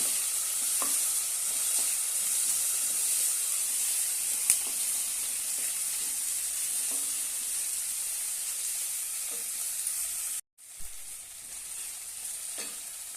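Finely chopped tomato sautéing with browned onions fries in a pan with a steady bright sizzle and occasional spoon taps, cutting out briefly near the end before resuming.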